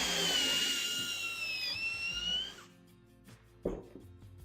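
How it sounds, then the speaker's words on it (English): A power drill bores a hole through a drill bit jig for a Jeep drawer system, whining loudly and steadily for a couple of seconds before spinning down, followed by a brief knock. "You'll take the drill bit, get it lined up, go ahead and drill your hole,"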